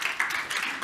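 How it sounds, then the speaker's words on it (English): Applause from a church congregation at a Sunday morning service, a short burst of steady mixed clapping that fills the room, fairly soft and even throughout. "Give yourselves a round of applause."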